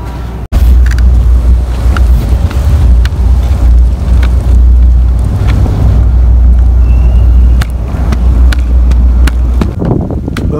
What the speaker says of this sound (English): we're going to take a ride on the scooter